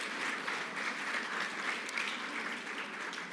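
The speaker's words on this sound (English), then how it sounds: "Please give him a round of applause." Steady applause from a conference audience welcoming a guest, dense and continuous clapping filling the room at moderate distance for the full duration.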